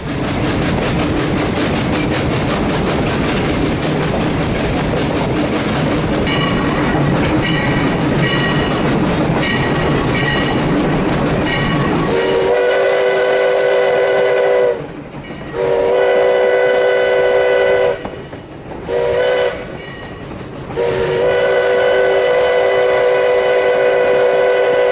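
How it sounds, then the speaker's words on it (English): A steam train rumbles along with steady rail noise, then its whistle sounds loudly in several long blasts with brief breaks between them, close by and with no talking. "enjoyed a steam train engine ride"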